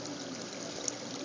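Return water from a pool flows steadily into a strainer, a soft continuous rushing and trickling with an even level throughout and no voices.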